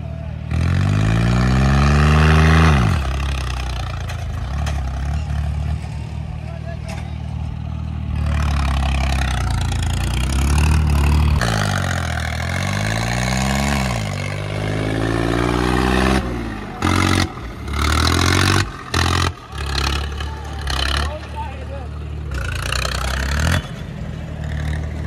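A new John Deere 5050D tractor engine revs loudly nearby in several surging rises and falls over a rough, clattering idle, while people talk over it.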